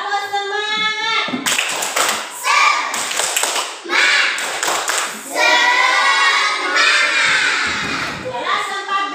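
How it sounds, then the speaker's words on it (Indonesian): A class of fourth-grade children claps in a rhythmic spirit-clap pattern in a classroom, loud and close, with their voices chanting along between the bursts of claps. "Sebelumnya, tepuk semangat."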